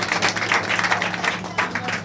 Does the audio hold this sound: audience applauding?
yes